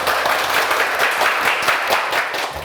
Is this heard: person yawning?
no